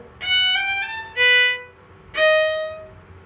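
A violin plays a short phrase from a minuet, quick bowed triplet notes followed by a few longer held ones, clear and close, with no talking.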